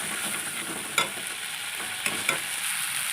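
Spices, coriander leaves and chopped green chilies sauté in oil in a pan, giving a steady close sizzle and a few soft spoon taps against the pan.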